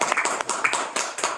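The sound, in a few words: audience applause in the room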